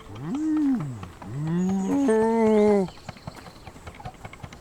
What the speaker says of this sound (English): Another longer happy moo sound.